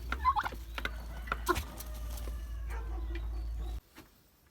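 Turkeys gobble in short, rapid bursts over a constant low hum, several calls scattered through the clip before the hum stops.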